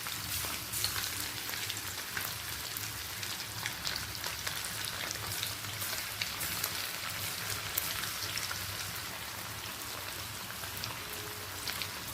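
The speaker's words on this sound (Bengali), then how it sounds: "একে একে পনিরগুলোকে ভেজে তুলে রাখবো" Paneer cubes fry in white oil in a wok for chilli paneer, producing a dense, continuous, close sizzle like heavy rain that holds steady throughout without talk.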